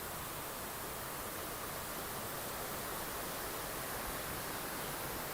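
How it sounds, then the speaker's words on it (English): Rushing water of a waterfall on Oakley Creek in an Auckland urban reserve, heard from above as a dense, steady roar without pauses, moderately faint and alone. "Can you hear the waterfall?"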